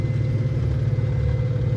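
A sailboat's engine runs at low revs, a steady, loud low rumble with an even throbbing pulse and no other sounds.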